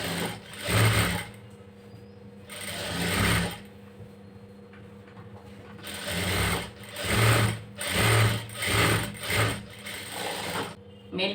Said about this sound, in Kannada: ಮೇಲ್ಗಡೆಯಿಂದ ಒಂದು ಸ್ಟಿಚ್ ಹಾಕೋತೀನಿ